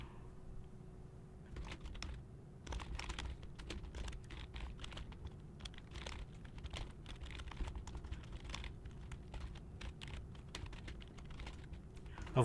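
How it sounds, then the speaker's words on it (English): Rapid, irregular key clicks from typing on a computer keyboard while coding, close and steady throughout, quiet overall with a low hum underneath and no talking. "Of course, typing this out"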